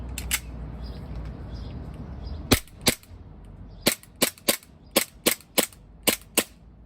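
A WE-Tech Glock 17 airsoft gas blowback pistol fires about ten sharp, close cracks, two early, then a pair, then a quick rapid string of shots with brief pauses between them.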